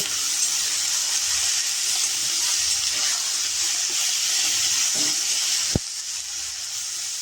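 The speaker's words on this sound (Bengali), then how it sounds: "চিচিঙ্গা দিয়ে দিয়েছি, এবার নেড়ে নিচ্ছি।" Snake gourd frying in hot oil in a wok as it is stirred, a steady, loud sizzling hiss that runs throughout, with a sharp clack near the end.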